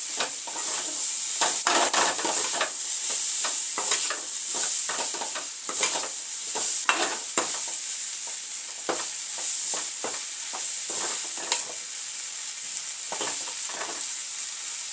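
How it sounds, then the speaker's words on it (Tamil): Vegetables cooked into a curry with grated coconut are stirred in a hot pan, giving repeated scraping strokes over a constant frying sizzle, close and steady throughout with no voices. "இப்போ இது மேலே நம்ம துருவி வச்சுக்கிற தேங்காவை போட்டு மிக்ஸ் பண்ணிட்டா காய் ரெடி ஆகிடும்"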